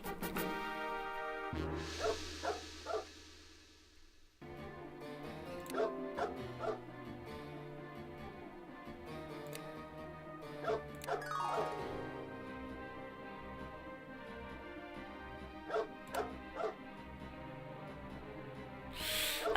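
An estate dog barking in a video game, a few scattered, sharp barks coming and going over a steady musical score that fills the background throughout.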